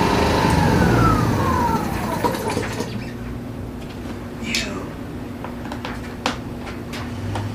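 A Yamaha generator engine runs loudly and steadily, then is switched off and winds down over a couple of seconds with a falling pitch, leaving only a low residual hum and quiet background.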